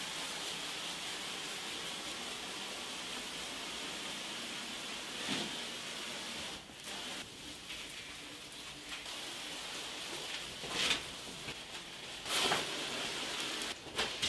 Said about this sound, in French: L'arrosage des murs avec mon vaporisateur.